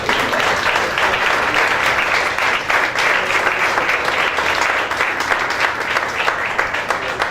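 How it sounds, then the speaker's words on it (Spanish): A congregation applauding during a service at a mission church: loud, continuous, dense clapping from many hands that holds at an even level from start to finish. "Aplaude al Señor."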